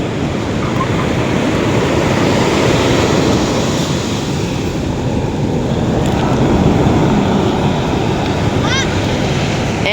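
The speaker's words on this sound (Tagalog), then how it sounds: "sobra pong lakas siguro na alon dito" Strong sea waves wash continuously onto a crowded beach lined with cottages, a loud broadband roar with gusty wind buffeting the microphone and occasional voices of people enjoying the shore mixed in.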